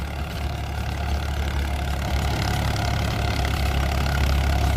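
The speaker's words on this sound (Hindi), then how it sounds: "फार्म ट्रैक 45 तो है किसानों ट्रैक्टर।" A Farmtrac 45 tractor engine idles with a steady, low, continuous rumble close by, with no talk.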